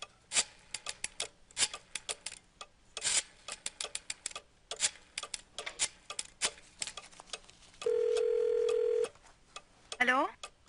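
Telephone keypad tones being dialed in the adventure game Gabriel Knight 2, a run of short clicks and beeps followed by a steady tone lasting about a second, then a brief ringing chirp, close and fairly quiet.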